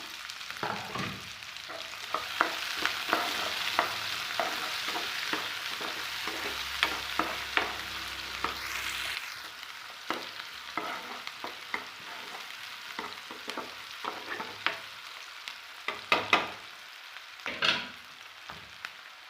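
Onions sizzle steadily in a hot pan, broad hiss with repeated clinks and scrapes of a spoon stirring throughout, close and moderately loud.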